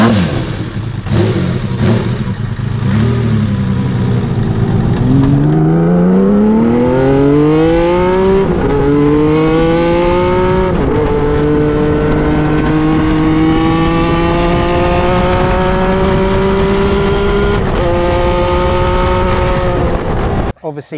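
An MV Agusta F4 1000 motorcycle engine revs loudly and steadily, rising in pitch over several seconds and holding a high drone, with brief dips between pulls before cutting off at the end.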